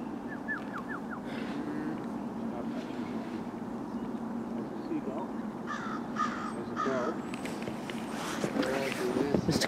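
A crow caws outdoors during a late-winter walk at Tift Nature Preserve, giving a few harsh calls over a steady low rumble of ambient noise. Voices and footsteps are heard nearby.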